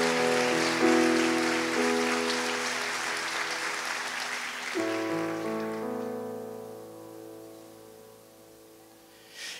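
A church congregation applauds loudly and continuously while sustained organ or keyboard chords play underneath, and the clapping gradually fades toward the end.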